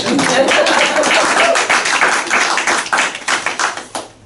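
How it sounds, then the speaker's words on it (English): Applause from a school assembly audience, dense and continuous clapping that stays loud before thinning toward the end, with no voices over it. "Round of applause for that."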